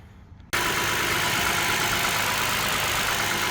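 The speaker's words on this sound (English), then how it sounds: "let me turn the engine on" A 2013 Toyota Sienna minivan engine turns over and catches after a brief quiet start, then settles into a loud, steady idle rumble.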